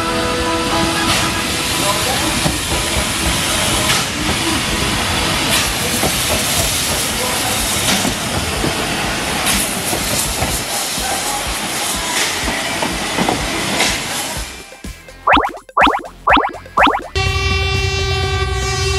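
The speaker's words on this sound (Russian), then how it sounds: "Да, это красный паровоз." A red steam locomotive hisses and chuffs in a dense, steady roar of steam for most of the passage, then cuts abruptly into a few sharp, separated bursts and a tonal tail near the end.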